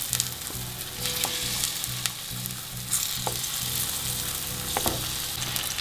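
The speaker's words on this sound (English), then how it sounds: "we're going to fry them on a medium flame for 5 minutes on each side" Pointed gourd pieces fry over a medium flame in a pan with a steady, dense sizzle and crackle, joined by occasional sharp pops and a faint rhythmic low rumble throughout.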